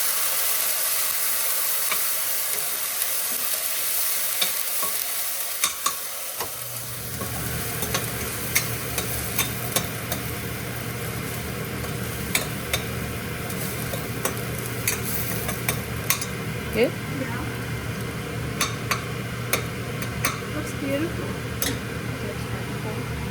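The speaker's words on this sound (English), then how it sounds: "I'm going to give it a nice stir here" A paste stirred in a cooking pan, first quietly, then with a low hum and steady sizzle starting after several seconds, overlaid with repeated short scraping ticks of a spoon; a voice is heard speaking briefly.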